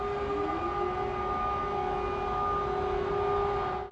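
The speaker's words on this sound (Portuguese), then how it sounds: "Para alertar a população, as sirenes soaram novamente." Air raid sirens wail over Kyiv during a bombardment, a loud sustained civil defense tone that climbs and then holds steady throughout, with no voices.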